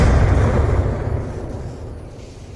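A deep, rumbling blast from a flashbang grenade in the VR shooter Onward, heard during a competitive tournament match, loud at first and then slowly fading into a low reverberating tail.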